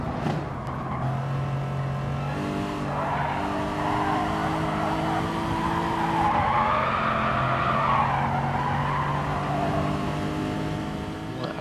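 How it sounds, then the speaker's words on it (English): A Gr.3 V8 race car at Kyoto in Gran Turismo Sport roars steadily with rising and falling engine tones while the tyres squeal and skid through corners, loud and continuous without commentary. "Now I'm just going to shut up for a second and just enjoy the sound of this car."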